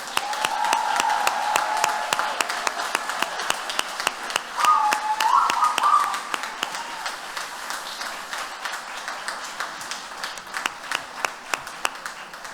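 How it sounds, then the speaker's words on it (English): Graduates of a law department master's ceremony receive a round of applause, a lively clapping crowd that swells early then thins into scattered, distinct individual claps toward the end. "And now again, a big round of applause for all of them."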